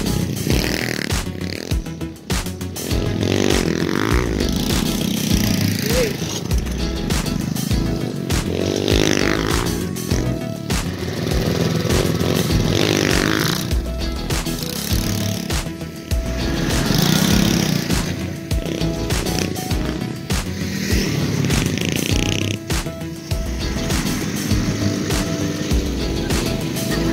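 A small go-kart engine roaring steadily throughout a ride, its buzzing, sputtering note rising and falling with the throttle, loud and close for the whole stretch with no talk.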